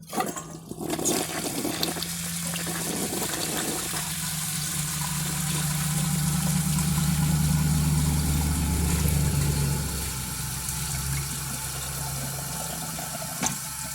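A 1974 toilet flushes a washcloth and grocery bag with a loud gurgling rush of water that swells and then drains away, followed by a quieter refilling hiss.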